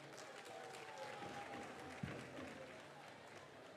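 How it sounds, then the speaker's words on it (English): An audience at a national apprenticeship programme launch gives a sheikh a round of applause, a faint, distant wash of clapping and crowd murmur with a single sharp knock partway through. "Please welcome him with a round of applause."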